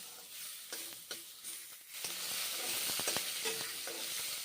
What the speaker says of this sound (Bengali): এখন ভেজে নিচ্ছি হ্যাঁ রসুন পেঁয়াজ ভেজে নিচ্ছি